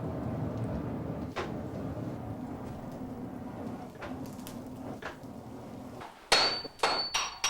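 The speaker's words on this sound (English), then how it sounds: "The block is stretched by hammering it to double its original length before folding" Heavy metal hammer blows on a heated steel block being stretched for a Japanese katana ring out over a steady low roar, sparse at first, then a quick cluster of loud clanging strikes near the end.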